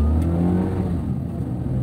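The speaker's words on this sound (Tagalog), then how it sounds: "Galit yung makina natin." A car engine revs hard while driving on a highway near the Calamba or Cabuyao exit, a brief, moderately loud mechanical drone heard from inside the vehicle.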